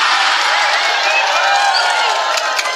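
Crowd at an Islamic sermon gathering in Indonesia applauding and cheering loudly, a continuous close wash of clapping with whoops, sustained throughout without pause.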